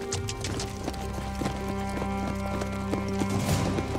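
Horses galloping with steady rhythmic hoofbeats and a whinny, set in an old-time journey, loud and continuous under music.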